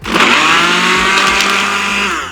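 A blender blending lemons, water and ice runs continuously at high speed, a loud, steady whirring grind with a rattling texture that holds through the whole stretch.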